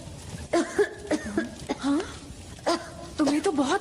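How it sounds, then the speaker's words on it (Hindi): Coughing from an animated character, several short harsh bursts in quick clusters, close and clear with brief pauses between. "तुम्हें तो बहुत खांसी हो रही है।"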